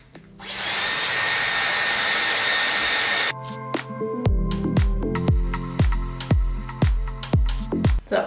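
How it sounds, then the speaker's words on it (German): A hair dryer blows with a steady, loud whir for about three seconds, then cuts off, followed by a series of short clicks and knocks. "So, Haar glatt, Föhn an."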